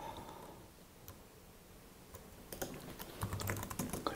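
Typing on a computer keyboard while working on a Raspberry Pi web server: quiet scattered key taps at first, then a denser run of clicks growing louder toward the end.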